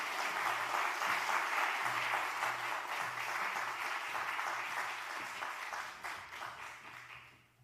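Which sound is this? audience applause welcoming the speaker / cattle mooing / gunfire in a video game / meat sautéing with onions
audience applause welcoming the speaker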